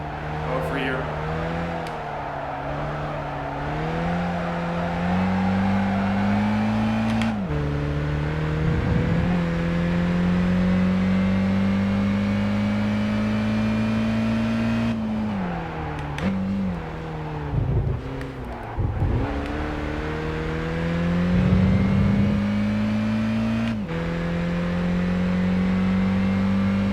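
Race car engine in Gran Turismo 5 driving laps, with a loud, steady drone that rises through revs, drops sharply on downshifts and braking, then climbs again, repeating throughout with faint tire noise.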